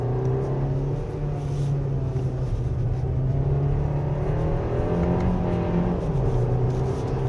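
A 2024 Hyundai Kona 1.6 Turbo 2WD pulls hard along a winding road, its engine droning loud and steady as revs rise and fall, with a constant whir close by and no talk.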